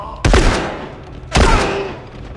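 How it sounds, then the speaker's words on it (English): Two loud gunshots in the video game The Last of Us, about a second apart, each a sharp blast with a ringing decay. "That only took two shots to kill."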